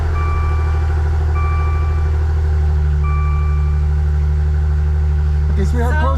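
A Maserati Ghibli engine idles steadily and loudly after starting, following an oil pressure sensor replacement, with a repeating warning chime over the low hum and a brief rattle at the end.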